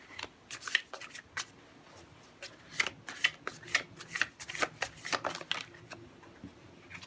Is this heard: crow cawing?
no